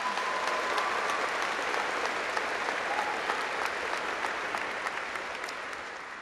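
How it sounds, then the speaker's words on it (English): Sustained clapping from a graduation ceremony crowd honoring a staff member, a dense, steady roar of many hands that holds for several seconds and then begins to taper slightly toward the end. "Let's give her a round of applause"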